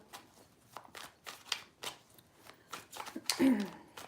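Tarot cards are shuffled by hand in a series of quick, papery riffling bursts, close and fairly quiet, with short pauses between them and a slightly louder flurry near the end.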